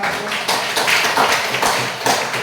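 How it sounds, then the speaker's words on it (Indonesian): Students in a classroom clap for a group of classmates, a loud burst of uneven, rapid hand claps that carries on steadily for a couple of seconds with no talking. "Tepuk tangan dulu untuk kelompok 1."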